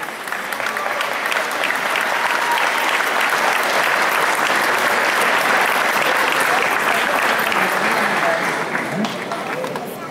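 Sustained crowd applause at a community family show in a theatre, a thick wash of clapping swelling slightly mid-way and holding steady, with some crowd noise mixed in.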